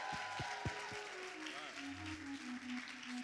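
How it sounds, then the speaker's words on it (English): Applause at an awards ceremony for best actor, a soft wash of clapping from the audience beneath a few sharp nearby taps and a person speaking, faint and steady throughout. "Keep applauding, guys. Keep applauding."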